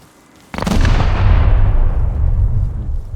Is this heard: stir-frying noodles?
no